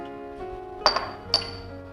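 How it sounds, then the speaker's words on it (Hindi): Whole spices drop into a pressure cooker, giving two or three sharp metallic clinks close by against a steady low kitchen hum. "इसमें डाल देंगे खड़े मसाले"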